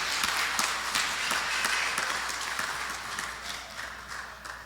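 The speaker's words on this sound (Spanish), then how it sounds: "Démosle otro aplauso bien fuerte al que gloria merece." A church congregation applauds in a steady, even wash of clapping, heard at a moderate distance and tapering slightly toward the end.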